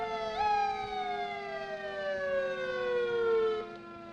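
A fire engine siren wailing at a Fourth of July parade in North Carolina, a loud, steady descending tone that slides down in pitch, nearby and with no voices over it.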